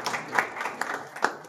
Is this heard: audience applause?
yes